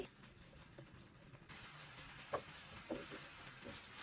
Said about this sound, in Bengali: পেঁয়াজ ও রসুন কুচি আমি তেলের মধ্যে ভেজে নিচ্ছি।